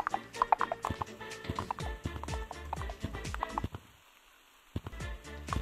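A horse cosmetic in the Gorilla Tag video game gives off repeated hollow clip-clop hoofbeats in quick bursts, with a brief pause and then more clopping, moderately loud and close.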